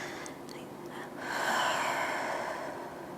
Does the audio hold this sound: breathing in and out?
yes